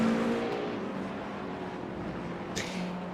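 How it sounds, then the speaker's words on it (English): Cadillac V8 GTP race car engine in a racing video game, a meaty V8 note droning steadily at moderate loudness with a slight rise in revs and a brief higher whine near the end. "that really meaty V8 sound that we come to love, especially from GM products"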